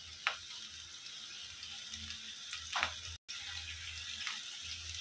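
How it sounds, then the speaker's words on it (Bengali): Water from a rinsed spice bowl poured into a pan of simmering mustard-sauced pointed gourd, giving short splashy gushes over a soft sizzle, close and alone. "বাটি ধুয়ে একটু জলটা দিয়ে দিব"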